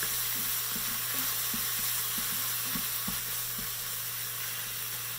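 Green chili paste made of green chili and salt fries in a pan, producing a constant bright sizzle with soft repeated taps of stirring and a low steady hum underneath.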